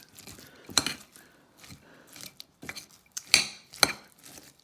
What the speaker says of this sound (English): we'll give this a good stir and let that mayonnaise